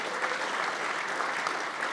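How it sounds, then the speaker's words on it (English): Banquet audience applause at a college soccer trophy dinner, a brief, even burst of many hands clapping at moderate volume. "give her a round of applause"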